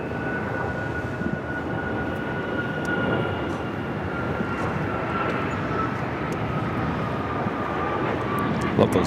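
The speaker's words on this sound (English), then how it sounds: "This is United Airlines 2667 taking off to Washington Dulles on the MAX 9." United Airlines Boeing 737 MAX 9 taking off from Los Angeles LAX bound for Washington Dulles, a steady broad jet roar held at constant loudness throughout, with a faint whining tone above it.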